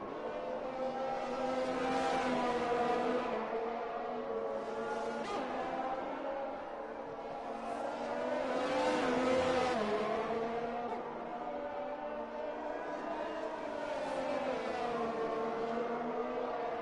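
Race cars at the Hungary circuit in a PlayStation racing game, engines droning and revving continuously with rising and falling pitch as they accelerate and brake, loud and steady throughout.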